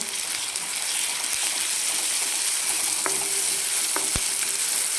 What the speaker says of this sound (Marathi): हिरवी मिरची तिला पण एक मिनिटभर फक्त तेलामध्ये परतून घ्यायचं